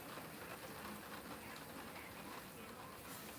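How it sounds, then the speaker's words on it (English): Steady rain falls outside an open window, a dense, even hiss of drops filling the whole stretch at moderate loudness, with no clear pauses or talk over it. "It's raining, by the way, where I am."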